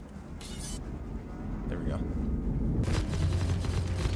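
Spaceship weapons firing in the Star Citizen video game: a loud, rumbling roar with sharp bursts layered on top, building steadily and continuous throughout.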